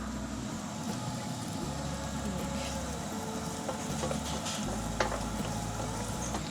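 Carrots cook in a hot pan with a soft, steady sizzle, faint under a low background hum, broken by a few brief clinks and stirring scrapes.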